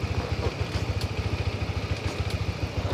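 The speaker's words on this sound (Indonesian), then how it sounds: "si kopling ini dilepas secara perlahan, tapi nggak cepat-cepat banget, sambil ditahan sampai motornya bergerak jalan" A manual-clutch motorcycle engine runs at a low, even idle close by, its rapid thudding pulses steady and unchanged over a few seconds.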